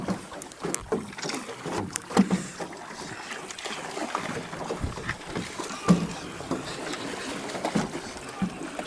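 A canoe is paddled across open water, with repeated splashes and strokes close by over a breezy, washing background.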